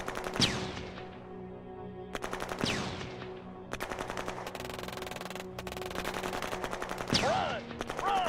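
Video game gunfire on a battlefield: several loud bursts of rapid automatic shots, each a dense rattling volley, separated by short gaps, with sharp ringing tails.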